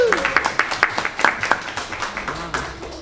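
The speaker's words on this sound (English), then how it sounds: "Another round of applause for Springfield Family Doula." Audience applause at a business accelerator's final pitch presentations, a short burst of scattered hand claps that thins out over a few seconds, with a voice speaking over it.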